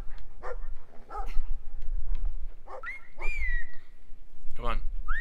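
A dog in the video game Brothers: A Tale of Two Sons gives several short barks and yelps spread across the moment, mixed with a whining cry, over low rumbling game ambience.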